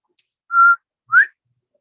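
A person whistles two notes imitating a bobwhite quail call, a steady first note and then a rising second note, close and clear against silence.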